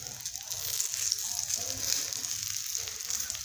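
Methi dhapate flatbread fries in oil on a hot griddle, giving a steady close hiss and crackle with small popping bursts throughout.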